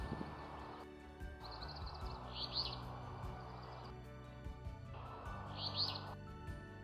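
Alder flycatcher calling in Nova Scotia, two short, fairly faint call phrases spaced a few seconds apart over a quiet, low outdoor background.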